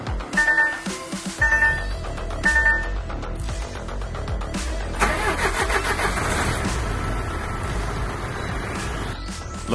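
A DAF LF truck's diesel engine cranks with several short starter-motor bursts with beeping, then catches and settles into a steady, loud idle rumble close by.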